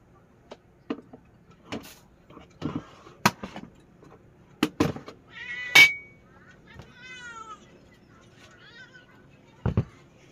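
A cat meows a few times amid scattered clinks and knocks of dishes, with brief quiet gaps between the sounds, close by.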